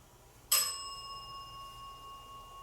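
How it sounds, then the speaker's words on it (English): A single bell strikes once during an evening group session, a bright clear ding that rings on with a long, slowly fading tone in an otherwise quiet room. "And the bell rang, so seems like some acknowledgement there."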